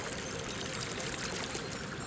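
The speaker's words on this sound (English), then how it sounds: "A unique wave phenomenon that is found in Medano Creek." Medano Creek's surge waves flow over sand in front of the dunes, a steady, soft rushing and pouring wash of shallow water, continuous and faint with no voices.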